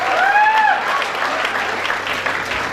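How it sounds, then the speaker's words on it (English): An audience at a college event breaks into loud, sustained applause, a dense wash of clapping that fades slightly toward the end. "I need huge clap for Robin Not Ranjan"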